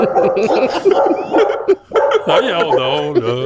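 A dog barks and yips repeatedly indoors at home while people talk and laugh over it.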